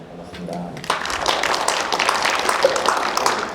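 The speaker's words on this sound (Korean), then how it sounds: "짧았는데 박수가 커졌어요." An audience at a 2022 Incheon education forum applauds a middle school teacher with a swelling burst of many hands clapping, quiet at first and then steady, with a voice heard underneath.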